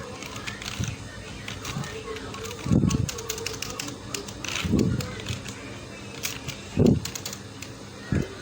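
Computer keyboard keys clatter in short bursts while someone types in Microsoft Word, with a few heavier thumps spaced every couple of seconds under faint speech.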